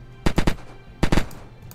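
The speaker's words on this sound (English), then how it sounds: "for the FAMAS, it takes low-cal ranger ammo, has a few attachment slots, it is semi-automatic, and burst, and it has a really satisfying sound to it" A FAMAS rifle in the video game Unturned fires two quick three-round bursts, each a tight trio of sharp, loud reports, with a short pause between the bursts.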